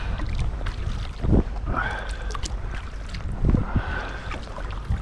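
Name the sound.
southwest wind while kayaking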